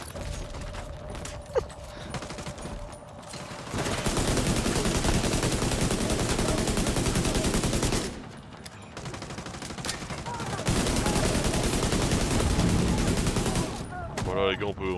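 Automatic weapon fire in The Division 2, dense sustained bursts crackling almost continuously, pausing briefly midway then resuming loud and rapid, with a player's voice occasionally over the shooting.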